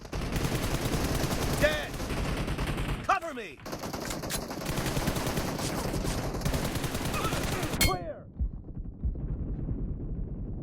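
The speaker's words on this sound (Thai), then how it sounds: "เดี๋ยวเราไปยิงคน หน่อย แล้ว กัน นะ" Gunfire in PUBG Mobile: dense, continuous rapid shots throughout, broken by brief whooshing sweeps and a sharp cutoff near the end, loud and close.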